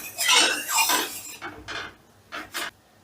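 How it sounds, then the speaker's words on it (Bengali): A utensil scrapes and rubs around the sides of a kadai, spreading hot white oil before paneer is fried for chilli paneer; a few dry metallic strokes, close and clear, fading into short scrapes. "তেলটা গরম হয়ে গেলে তেলটা কড়ার গায়ে একটু আমি লাগিয়ে নিচ্ছি।"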